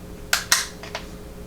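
A part of a Tri Star L120 9mm pistol pops into place during takedown, heard as a few sharp, close metallic clicks and snaps, two louder ones followed by two lighter ones, with no talk.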